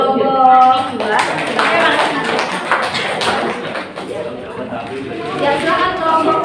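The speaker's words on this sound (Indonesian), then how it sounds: "Tepuk tangan untuk kelompok 2." A group claps for several seconds in a classroom, fairly loud and close, with voices talking over the clapping.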